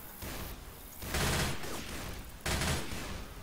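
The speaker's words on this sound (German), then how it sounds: "Meine Waffe ist ganz schön laut." Heavy gunfire from a Magnum pistol in Left 4 Dead 2, loud dense bursts crowding the whole mix, with brief drops in between and a second volley near the end.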